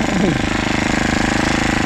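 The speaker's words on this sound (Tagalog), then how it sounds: "Grass cutter." A grass cutter engine runs steadily and loud throughout, with a fast rhythmic buzzing hammer and a brief higher whine near the start, recorded close during yard work.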